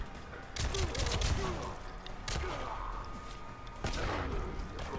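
Gunfire from barking iron revolvers during ranked matches in a video game, with several bursts of shots and thuds amid game noise, and a person talking over parts of it.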